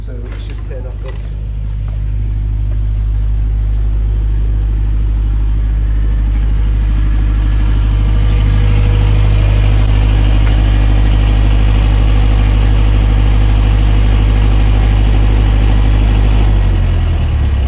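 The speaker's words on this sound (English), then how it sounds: "turn the generator back off because it was off when we arrived" A generator engine on a gen set runs loudly and steadily with a deep, constant droning hum, then winds down as it is switched off right at the end.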